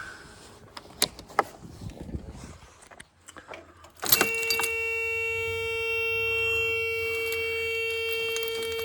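A large bunch of keys jangles in bursts of bright metallic clinks beside a DAF former mobile workshop truck, then the engine starts and settles into a steady idle with a whining tone.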